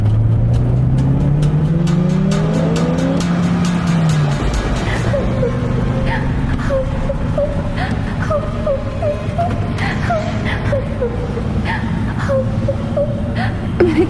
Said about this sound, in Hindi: सुमित गाड़ी की रफ्तार तेज करता है।